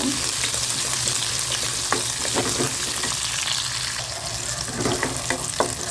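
Small onions sautéing in a pan for a black chutney, a constant loud sizzle with occasional scraping stirs and light clicks throughout.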